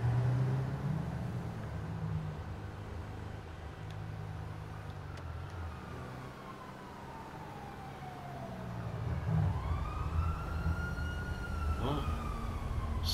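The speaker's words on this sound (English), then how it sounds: "sirens again" Police sirens wail in GTA 5 Online, rising and falling in long sweeps over a low rumble of engine and traffic noise, fading midway and then returning louder, fairly close.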